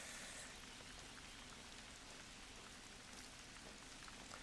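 Steady rain falling in theHunter: Call of the Wild, Te Awaroa National Park, a dense continuous patter and hiss of drops on surfaces, even and moderately loud throughout with no voices.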